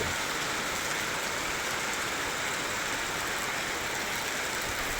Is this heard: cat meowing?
no